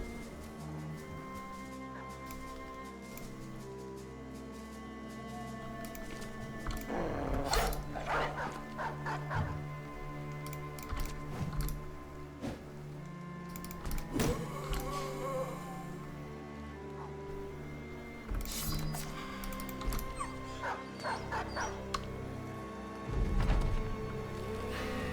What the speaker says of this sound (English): the sound effect that they use, you know, obviously sounds close enough to a real dog that my dogs have had to learn that that's not a real dog whimpering